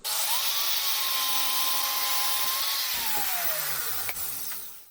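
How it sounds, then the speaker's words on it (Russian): An angle grinder cuts through a plastic pipe fitting from a barrel, a loud continuous whine that holds steady and then drops in pitch near the end as the disc slows, with no talking. "Сейчас при помощи УШМ я его просто обрежу."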